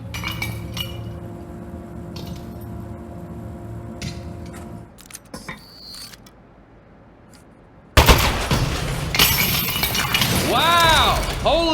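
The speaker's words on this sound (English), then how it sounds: "Oh, man, the turret broke." Turret breaking apart in the video game Aperture Desk Job: a sudden loud burst of shattering, clinking glassy and metallic debris with rapid clattering and whirring, following a quieter stretch of mechanical game noise.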